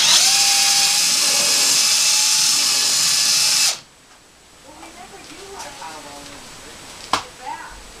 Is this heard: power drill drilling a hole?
yes